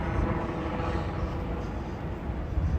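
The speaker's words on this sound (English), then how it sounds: "Oh, helicopter." A helicopter passes over Riverside Park in New York City, a steady low rumbling drone that fills the whole stretch, moderately loud and constant without clear changes.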